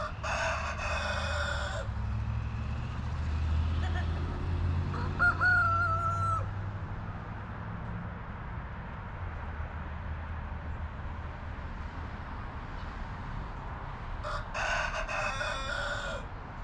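Backyard chickens cluck softly and continuously while a rooster crows loudly in bursts near the start and again near the end, with a faint higher call in between, all over steady outdoor background noise.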